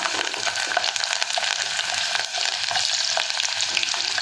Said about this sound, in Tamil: இப்போ இது வந்து நல்லா பொரிஞ்சதும் இப்போ நம்ம வெள்ளைப்பூடு சேர்த்துக்கலாம்